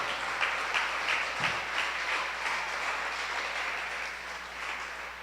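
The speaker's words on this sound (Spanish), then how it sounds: "No sé si usted le puede dar un aplauso muy fuerte al Señor." A church congregation at a Sunday service applauds with a dense, even wash of clapping that holds steady for several seconds, heard from slightly back in the hall.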